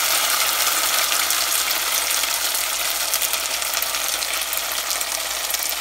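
Omena anchovies hit hot oil in a pan on the stove, giving a loud, steady, dense sizzle and crackle that continues without pause.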